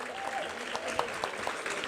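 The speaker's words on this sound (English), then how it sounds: "we'll give him a round of applause" Brief burst of audience applause at a cotillion and beautillion ceremony, steady dense clapping from a crowd at moderate level, lasting a couple of seconds.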